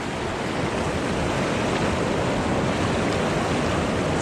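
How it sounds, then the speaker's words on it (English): Rushing river water with a strong current roars loud and steady, a dense unbroken wash close by that fills the whole stretch. "It's amazing the power of water."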